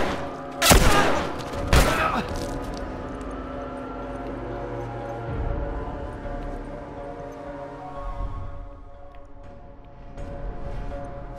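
Gunfire in The Last of Us Remastered on PS4: two sharp, loud shots close together near the start, followed by lingering game ambience and low rumbling with faint movement sounds.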